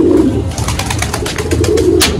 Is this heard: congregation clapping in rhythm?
no